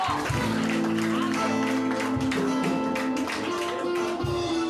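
Church congregation clapping during a closing worship service, steady dense applause running throughout, mixed with music or organ tones and voices in the hall.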